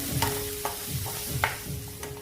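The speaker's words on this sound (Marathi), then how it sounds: "तेल चांगलं तापलेलं आहे आणि हे वाटण ह्याच्यामध्ये छान परतून घ्यायचं।" Ground spice paste sizzles in well-heated oil while a spoon stirs it, scraping in a steady rhythm every half second or so, close and continuous with no talking.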